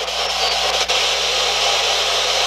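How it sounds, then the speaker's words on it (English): A P-SB11 spirit box radio sweeping AM and FM together, producing a loud, constant wash of harsh static and feedback hiss with a faint low hum and no speech. "I don't use AM and FM at the same time because you can get this feedback that you hear."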